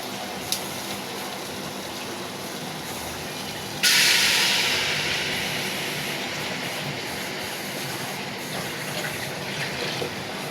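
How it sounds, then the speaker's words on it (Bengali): Water poured into a hot pan of fried rohu fish sets off a sudden, loud steaming hiss, which then eases into a steady sizzle that carries on for several seconds without any talk. "এ পর্যায়ে আমি পানি দিয়ে দিব।"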